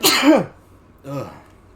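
A person gives two quick, close sneeze-like bursts, the first stronger and the second softer, separated by a short pause.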